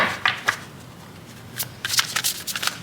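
Tarot cards riffled and shuffled by hand, with a few crisp bursts of card noise separated by short pauses, close and fairly quiet.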